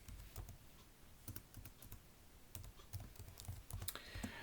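Faint, steady typing on a computer keyboard while writing Python code: a continuous patter of light, close clicks over a hissy background, with no speech.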